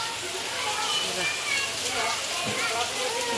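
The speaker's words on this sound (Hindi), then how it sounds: "बारिश बहुत ज़्यादा तगड़ी बारिश पड़ रही है" Heavy rain pours down outside a house, making a steady, dense hiss that never lets up.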